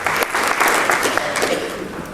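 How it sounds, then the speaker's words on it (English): An audience at a chiropractic convention breaks into a round of applause that stays dense and fairly loud throughout, with no voices heard. "Give them a round of applause for the vision"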